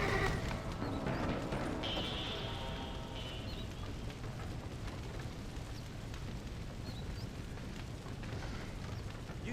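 A horse gallops with rapid hoofbeats in the Red Dead Redemption video game, a whinny rising briefly near the start over a steady rushing background.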